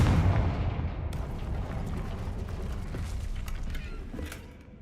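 A Confringo blast spell goes off in Hogwarts Legacy as a heavy booming explosion, loudest at the start, followed by a rumbling decay and scattered crackling debris that fade out by the end.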